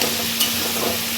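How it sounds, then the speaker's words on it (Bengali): Potatoes frying in oil in a pan with a steady, close sizzle and light stirring scrapes, heard alone without talk. "দেখো, আলুগুলো ভাজা হোক একটু হালকা করে।"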